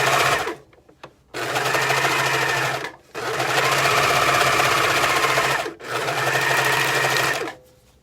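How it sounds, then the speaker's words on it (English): A serger sewing machine stitches fabric for a DIY face mask, running in three loud, steady, whirring stretches separated by brief pauses. "I'm gonna use it on a serger"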